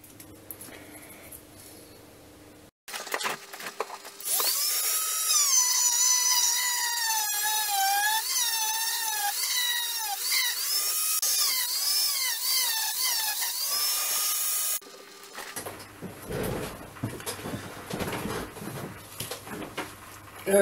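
A loud, whining power tool grinds steadily for about ten seconds, sanding tire rubber for a patch, its pitch wavering, with quieter handling noises before and after.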